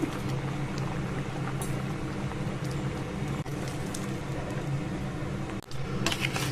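A pot of crab curry with rice-washing water bubbles and simmers steadily up close, a dense crackling, gurgling boil with occasional small pops and clicks.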